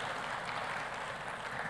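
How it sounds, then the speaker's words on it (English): Audience applause at a closing ceremony, a dense, even patter of clapping that stays steady and fairly faint throughout the short stretch. "How about that round of applause?"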